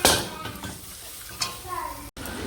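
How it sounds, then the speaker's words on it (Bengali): Water is poured into a pan of spice paste frying with salt, turmeric and chilli powder for a tilapia curry: a loud, hissing sizzle bursts up at once, then settles into a quieter, uneven crackle with a faint clink near the end. "মশলাটা তৈরি হয়ে গেছে, আমি অল্প করে এবারে জল দিচ্ছি।"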